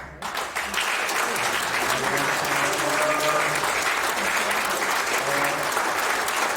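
An audience at a Queensland Boxing Hall of Fame induction ceremony breaks into applause, rising quickly after a brief opening and holding as a steady, loud, dense round of clapping with faint voices beneath.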